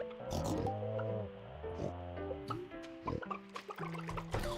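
Cartoonish pig oinks from the farming video game Stardew Valley repeat in short, bouncy bursts over tonal game music, moderately loud and continuous with no talking.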